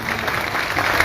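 Crowd clapping loudly at an outdoor political rally in Nanded district, a continuous dense burst of applause that stays strong throughout.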